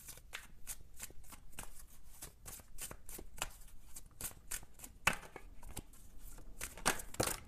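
A deck of oracle cards is shuffled close up, with rapid, repeated riffling bursts in an even rhythm for several seconds and no talking.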